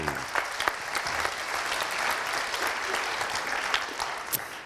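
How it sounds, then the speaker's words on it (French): Audience applause fills a round-table panel session at a national wine-tourism conference: a steady, dense burst of many hands clapping from start to finish, with a few sharper individual claps standing out near the front. "On peut l'applaudir, Brigitte."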